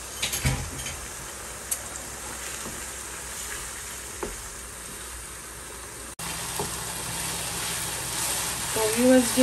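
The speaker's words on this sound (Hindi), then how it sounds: "तो व्यूअर्स ये देखें 5 मिनट हो गए मुझे इसे भूनते हुए।" Mutton mince frying with tomato puree in a pan, a steady close sizzle with occasional stirring clatter and scrapes, briefly cutting out midway before resuming a little louder.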